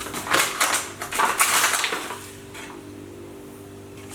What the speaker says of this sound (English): And now we're going to mix these two together until it forms sort of a paste